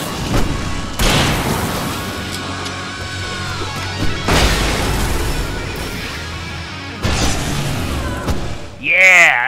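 Flashbang explosions in the video game Alan Wake, three heavy booming blasts spaced a few seconds apart, each decaying into a ringing tail, with voices talking over the combat.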